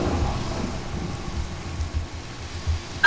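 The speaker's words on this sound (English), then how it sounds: "And now it's raining." Steady rain hisses throughout in a Minecraft world, with low rumbling underneath. Near the end comes a brief, louder thud.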